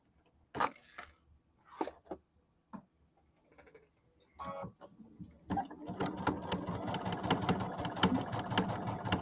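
A home sewing machine with a needle that has struck a pin stitches fabric for table-topper piecing: a few short starts and stops, then a steady, close mechanical whir with a fast ticking rhythm.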